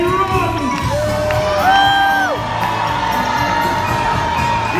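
A crowd of children cheers and shouts loudly at a live pirate show, with excited high-pitched whoops and yells rising and falling over a continuous roar, close and sustained.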